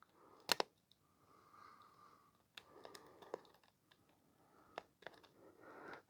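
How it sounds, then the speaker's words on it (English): Scissors snip back heat shrink tubing on the wires of a small halogen reading lamp, giving a few sharp, dry clicks and cuts scattered through a quiet room, close to the mic. "we'll just snip back the heat shrink a little bit here, just so we can get to the terminals"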